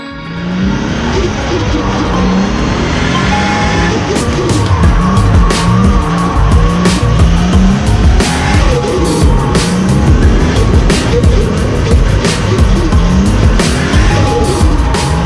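A drift car's engine roars loudly and continuously while the tires squeal and skid through long slides, the howl rising and falling in waves with no pauses.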